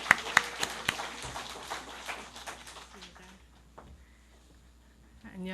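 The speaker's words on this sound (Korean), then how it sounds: "박수 한번 해주십시오" Brief burst of church congregation applause after a call to welcome a testimony speaker, loud scattered claps for about three seconds that fade away, followed by quieter room sound and faint movement.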